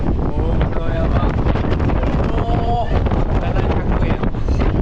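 Strong gale on the Izu Peninsula in Shizuoka, buffeting the microphone with a loud, constant roaring rumble throughout, a faint voice briefly audible under it.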